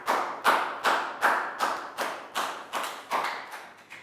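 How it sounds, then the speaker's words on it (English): A class of young pupils applauding a classmate in a science lesson: about ten loud, evenly spaced clap bursts, each sharp at the start and fading, with no talking. "Big round of applause for Pak Bung."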